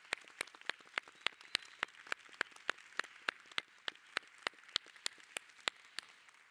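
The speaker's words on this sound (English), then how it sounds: "If we would give them a warm round of applause" An audience at a conference plenary applauds a panel with a steady run of crisp, evenly spaced claps, fairly quiet and distant, with no voices over them.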